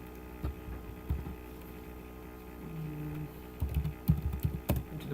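Keystrokes on a computer keyboard during a JavaScript do-while loop tutorial: a few scattered quiet clicks, then a denser burst of typing near the end, all over a steady low mains hum.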